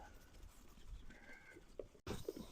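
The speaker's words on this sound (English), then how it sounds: "these are all of our female goats getting ready to come in" Female goats on a farm bleat faintly at a distance amid steady outdoor background noise, with a few louder calls near the end.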